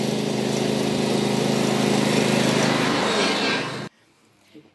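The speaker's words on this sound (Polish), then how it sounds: "Jest przyspieszenie obrotów silnika, więc przyspieszę te obroty i dam z siebie wszystko." A tractor engine revs hard at full throttle during a slow tractor race, a loud steady roar that holds for nearly four seconds and then cuts off abruptly into quiet.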